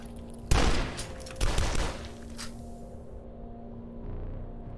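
Pistol gunfire in the game Dusk: two sharp, loud shots a second apart, then a fainter third report, each ringing briefly into a quiet hum.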